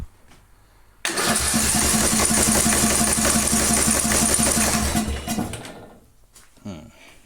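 A Craftsman garden tractor engine, run on choke with throttle, fires up abruptly and roars loudly at close range for about four seconds before winding down and stopping.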